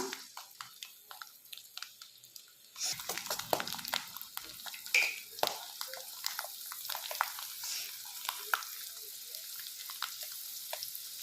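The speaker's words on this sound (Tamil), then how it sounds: "இந்த பூண்டை இதில் எண்ணெயிலேயே போட்டு வணக்கி எடுத்துக்கலாம்" Garlic cloves for pickle sautéing in sesame oil crackle faintly at first, then break into a louder dense sizzle with sputtering pops and occasional stirring scrapes, with no one talking.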